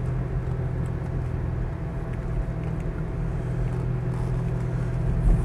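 Mercedes 280SL sports car with an automatic gearbox, 25 years old, cruising smoothly, a steady low engine rumble with road and wind noise heard from inside the car, no talking.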